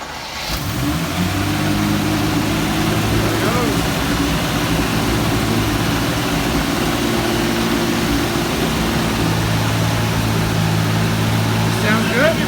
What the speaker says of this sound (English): We were able to get the car started, and what a beautiful sound that V12 made.